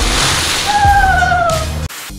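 Two people jump together into a pool, a loud close splash and rushing slosh of water lasting a couple of seconds before cutting off.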